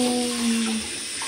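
Water runs briefly from a tap during washing, a soft steady hiss with a faint tonal whine, close by and quiet, lasting about a second.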